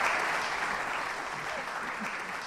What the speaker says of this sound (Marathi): अगदी जीवानिशी टाळ्या वाजवा